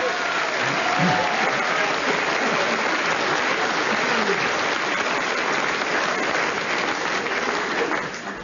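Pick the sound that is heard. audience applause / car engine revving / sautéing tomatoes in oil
audience applause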